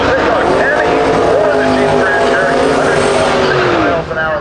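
A twin-turbo big-block milk truck launches down a drag strip, its engine roaring loud and continuous with whining, shifting tones, crowd voices faintly mixed in beneath the race noise.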